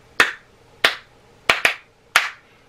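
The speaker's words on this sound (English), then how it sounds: "So, your boy tried to throw a little bit of a clap beat" Five sharp hand claps in an uneven beat, with two struck close together near the end. They ring out loud and close, alone with no talk.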